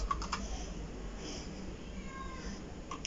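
Computer keyboard keys click in a short burst, ending with a press of the enter key, while setting up a multiport hub on a Google Chromecast, close and fairly soft over a steady background hum.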